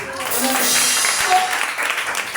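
A church congregation applauds during a gathering about a Foursquare church national convention, a steady wash of clapping lasting a couple of seconds, fairly close and even in level.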